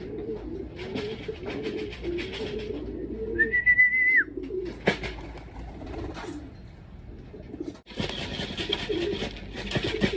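Pigeon calls in an outdoor setting, including a clear whistled note midway, with low cooing murmurs and background chatter throughout.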